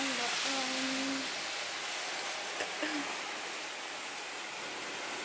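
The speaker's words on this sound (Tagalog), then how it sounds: "Maulan. Basa ang daan." Rain falls steadily on a wet road in Tokyo in July, a continuous even hiss close by that stays level throughout.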